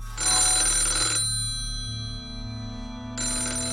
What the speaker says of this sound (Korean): 전화 한 통이 걸려옵니다